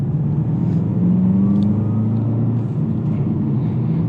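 The 4-cylinder engine of a 2019 Volkswagen Jetta GLI pulls hard under acceleration, a loud, steady drone with rising harmonics heard from inside the car.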